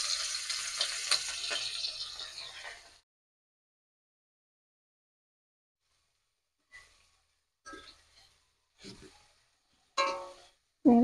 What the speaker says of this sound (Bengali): প্রথমে চিংড়ি মাছটা ভেজে নেব।